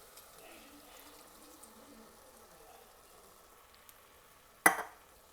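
Rotel canned tomatoes hit a hot frying pan of translucent onions with a sudden loud sizzle near the end, after a quiet stretch of faint kitchen background.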